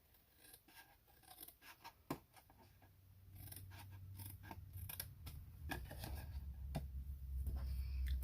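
Scissors snip through paper in a string of short, sharp cuts, close and quiet, with faint handling noise and a low hum building underneath.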